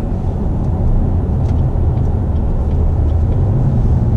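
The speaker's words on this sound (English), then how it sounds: "The V6 actually has a pretty decent sound." A 2019 Chevy Camaro RS with a V6 engine cruises on the road, producing a loud, steady low rumble from engine and road noise that stays even throughout, heard from inside the car with no talking.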